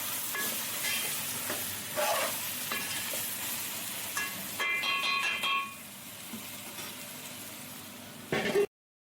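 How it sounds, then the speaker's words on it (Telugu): A spoon stirs and scrapes through sizzling chicken curry in a pan, with intermittent clinks against the pot over a steady frying hiss, ending abruptly. "నూనెలో మంచిగా కలిసేటట్టు చక్కగా కలుపుకోవాలి"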